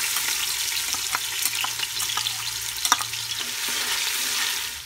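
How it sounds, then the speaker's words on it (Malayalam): A cup of finely chopped garlic fries in hot oil for Bukhari rice, giving a steady, close bright sizzle with scattered crackles and a few small pops throughout. "ഇനി ഈ എണ്ണയിലേക്ക് നമ്മൾ എടുത്തു വെച്ചിട്ടുള്ള ചെറുതായിട്ട് കൊത്തി അരിഞ്ഞിട്ടുള്ള 1 കപ്പ് വെള്ളുള്ളി ഇത്"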